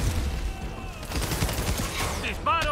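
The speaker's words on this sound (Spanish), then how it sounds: "¡Me han disparado!" Rapid bursts of gunfire in the Marvel's Spider-Man video game, a dense fusillade of overlapping shots under a player's excited shouting.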